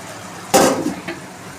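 A pan lid is lifted off a pan of stuffed bitter gourd cooking in a little water: one sharp metallic clank, a brief rattle that fades, then a lighter tap a moment later.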